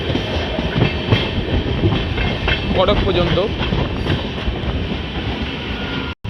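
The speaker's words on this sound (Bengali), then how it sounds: "মেমু স্পেশাল ট্রেন বেরিয়ে যাচ্ছে" A MEMU special train pulls out of a station on the route toward Puri, its wheels and carriages rumbling with a steady clickety-clack throughout, loud and close, with brief speech and a short dropout near the end.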